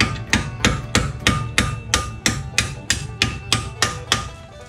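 Steady, evenly spaced hammer taps drive a spline bolt through the front suspension of a 2000 Chevy Impala, about ten sharp metallic blows in quick rhythm, close and loud with no talk.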